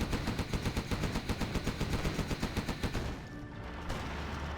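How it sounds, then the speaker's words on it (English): Rapid, evenly spaced artillery fire from a real-time strategy tank battle, a steady drumming barrage of blasts that cuts off and leaves a low rumble. "Artillery now coming in from one of the players."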